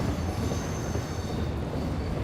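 Mainline East Coast train pulling out of Newcastle station, a steady rumble of wheels and carriages rolling along the rails at moderate loudness, continuous and unbroken with no talking.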